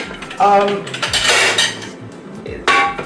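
A roasting pan and plates handled during washing up with soapnuts, sharp clanks and clattering knocks of metal and crockery in a few distinct bursts, close and loud.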